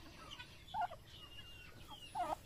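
A turkey hen with her chicks gives a few faint, short clucking calls in a quiet rural setting, with soft high chirps between them.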